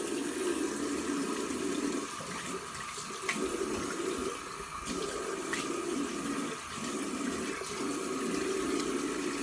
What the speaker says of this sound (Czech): opláchnu si obličej vodou.